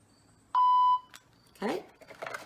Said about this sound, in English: and you will hear a beep, listen.